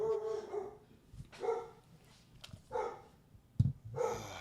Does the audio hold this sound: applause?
no